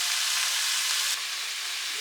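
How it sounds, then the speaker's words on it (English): Bacon frying in a pan gives a steady, close, bright sizzle with no voices, easing slightly in level partway through. "now she is busy frying some bacon for me."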